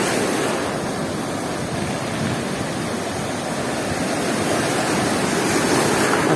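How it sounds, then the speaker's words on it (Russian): Storm waves surge and churn at Blue Bay in Gelendzhik, a loud, continuous roar of rough sea with no pause, wind adding hiss over the crashing water. "Вот такие волны, обалдеть."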